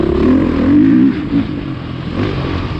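A 2020 Beta motorcycle engine revs hard on a demo ride. The note is loud and close, with a strong low rumble that rises and surges at first, then settles into a steady, throaty drone.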